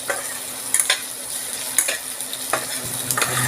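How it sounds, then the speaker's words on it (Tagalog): Onions frying in a pan for chicken curry, a bright continuous sizzle broken by close scraping and clinking as the utensil stirs them. "Lagay na natin ang sibuyas."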